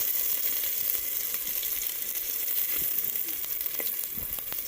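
Beaver meat sizzling and frying in hot bacon grease in a pan, a steady dense crackle with scattered sharp pops, close and loud, with no talking.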